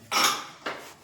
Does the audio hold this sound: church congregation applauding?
no